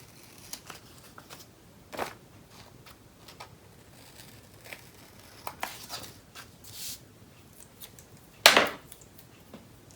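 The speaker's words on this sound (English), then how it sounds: "take your scissors, trim this away here" Quiet room with a few brief, scattered snips and rustles of scissors trimming a paper flap, one sharper crisp cut near the end; no talking.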